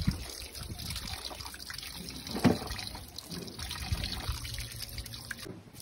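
Hot water poured through a strainer while making Filipino beef kilawin, a continuous close trickling and splashing of liquid that holds steady for several seconds with a brief louder gush midway.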